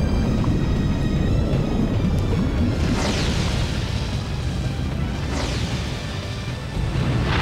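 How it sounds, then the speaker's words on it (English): A magic explosion attack from The Legend of Dragoon bursts in a dense, roaring wash, with two sweeping whoosh-like surges partway through and a heavy rumble sustained throughout. "Explosion!"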